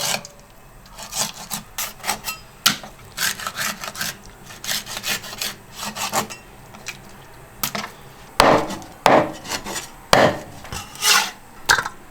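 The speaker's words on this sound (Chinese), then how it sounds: "把鱼尾巴一剖为2，" A knife repeatedly scraping and cutting against a wooden board as a bighead carp's tail is split, in quick rasping strokes with a few louder chops near the end, close by.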